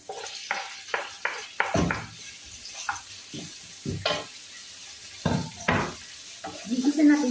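Chima leaves being sautéed in a pan, with repeated scraping and stirring strokes and bursts of sizzling at close range, ending in a louder hiss.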